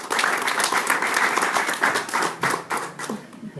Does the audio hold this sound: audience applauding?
yes